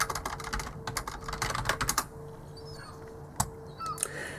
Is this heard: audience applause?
no